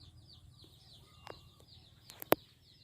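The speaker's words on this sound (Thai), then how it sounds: "ข้างในก็จะเป็นไก่ครับ" Chickens inside a coop built from bamboo cluck faintly and sporadically against a low, steady outdoor background, with a couple of sharper, louder calls near the end.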